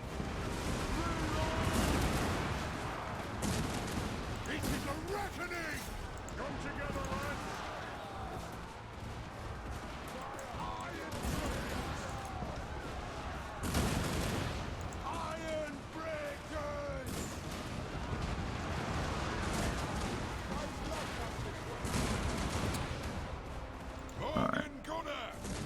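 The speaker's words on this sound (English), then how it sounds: "but I'll hit him with canister shots" In a Total War battle, canister shot artillery fires in a dense, continuous barrage: repeated booms and crackling blasts layered over constant battle din. A voice talks under the noise.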